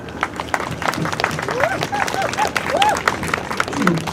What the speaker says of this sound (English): Can we give her another round of applause, a little bit louder, please?